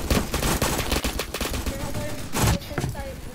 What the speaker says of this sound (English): He just sniper shot me right through a wall.